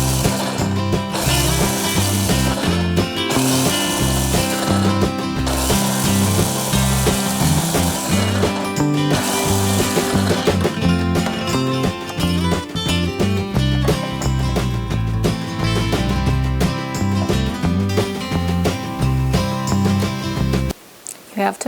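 A kitchen blender pulses dried tomato scraps into powder, a loud grinding whir in repeated bursts with brief pauses between them, cutting off abruptly near the end.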